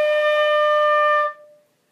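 A single sustained flute note played for a little over a second, clear and steady with a quick release and brief room decay.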